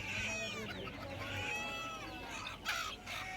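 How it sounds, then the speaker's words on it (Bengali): Silkie chickens at a bird market in Kolkata give steady overlapping clucks and chatter with busy market noise behind, close and continuous. "এদিকে তোমরা সিল্কি মুরগি দেখতে পাচ্ছ তো"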